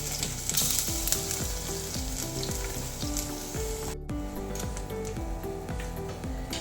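Garlic, crushed ginger, cinnamon and fennel fry in coconut oil in a pan for an egg roast, giving a steady crackling sizzle under melodic background music.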